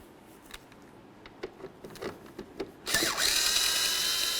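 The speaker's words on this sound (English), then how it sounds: "Use your Phillips head and remove the two mounting bolts." Tail lamp mounting bolts come out of a 2002-2009 GMC Envoy, with scattered light ticks and clicks before a loud, steady whirring power-driver run that starts about three quarters of the way through, close by and with no talking.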